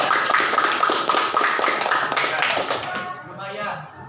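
Applause from a classroom audience after a group discussion: steady hand clapping from many people that fades out near the end, with a voice speaking over it.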